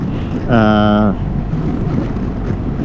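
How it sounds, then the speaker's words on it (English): Steady wind buffets the microphone with a low, rough roar throughout, and a brief tonal hum rises over it near the start, on Arizona Route 87. "Ugh, it's windy."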